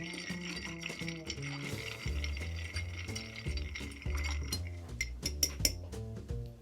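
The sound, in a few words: stirring Sazerac cocktail in mixing glass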